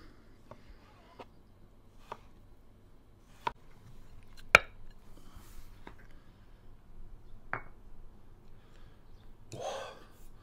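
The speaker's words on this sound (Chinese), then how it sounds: "咱们切一点刺身" A knife slices yellowfin tuna for sashimi in a series of sharp, quiet, isolated cuts spaced about a second apart, close and clear against near silence.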